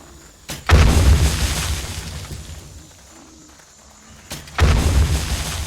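Exploding crossbow bolts blowing up zombies in 7 Days to Die, two loud deep booms several seconds apart, each trailing off into a rumbling decay.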